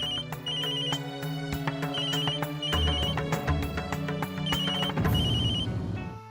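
A telephone rings with a repeating electronic melody, loud and close, the tune cycling several times over a busy musical backing.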